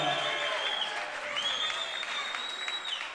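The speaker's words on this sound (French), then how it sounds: "Je vous demande d'applaudir comme il se doit," A crowd applauds a kickboxing fighter being introduced at a bout, steady loud clapping and cheering throughout, with a whistle-like tone rising above it.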